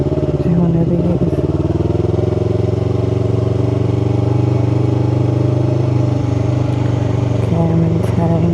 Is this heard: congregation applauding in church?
no